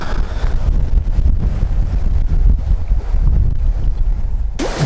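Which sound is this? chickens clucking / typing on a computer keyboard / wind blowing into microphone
wind blowing into microphone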